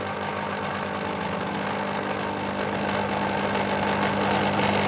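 Lathe spindle turning at about 800 RPM while setting up a part for a small finger-type engine build, giving a steady, loud mechanical whir with a constant hum throughout.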